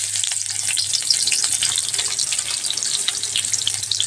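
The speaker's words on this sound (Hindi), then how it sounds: "तेल गर्म हो गया है, तो इसमें हम डाल देते हैं प्याज" Chopped onion sizzles loudly in hot oil in a pan as a home cook makes egg bhurji, a steady dense frying hiss with crackles running throughout, no voices.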